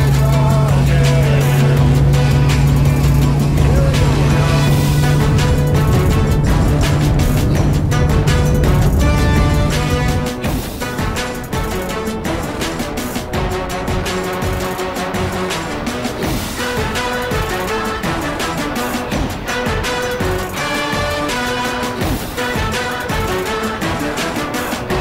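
A bass boat's outboard engine roars close and loud as it accelerates toward top speed. Its strained low drone holds steady and then shifts in pitch as the boat climbs onto plane over continuous water and wind noise.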